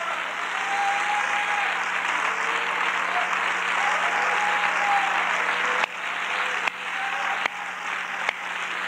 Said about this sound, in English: Let's just clap to the Lord a few minutes of praise to him.